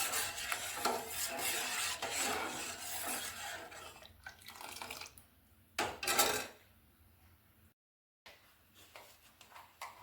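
Cornflour and a little plain flour being stirred into milk in a pan for gajar rasmalai, a steady scraping swirl with light clinks of utensil against metal, pausing briefly near the end.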